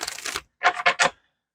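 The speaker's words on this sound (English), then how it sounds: "We'll cut the cards" Soft tarot card handling: a brief shuffle-like rustle, a pause, then three quick taps as a deck is cut and set down.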